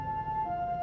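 An ambulance siren wails in a steady two-tone pattern, the pitch stepping down partway through, moderately loud and alone over low road hum.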